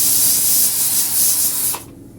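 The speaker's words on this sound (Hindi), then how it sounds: "और कुकर भी चढ़ा दिया है।" A pressure cooker cooking Lahori chickpeas releases a loud, steady jet of hissing steam, close up, for nearly two seconds before it cuts off abruptly.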